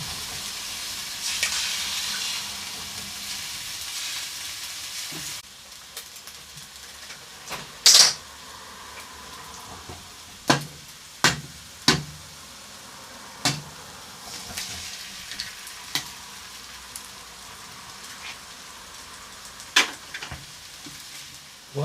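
Two eggs frying in a pan beside chicken and other fried-rice ingredients, a steady sizzle broken by sharp clicks and taps of a utensil against the pan, with no talk.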